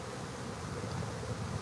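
A swarm of honeybees hums in a dense, continuous drone, steady and fairly loud throughout, with no voices over it.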